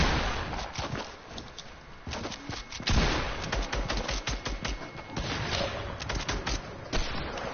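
Rapid video game gunfire, dense bursts of shots and automatic fire from a team fight, loud and continuous with brief pauses, alone without talk.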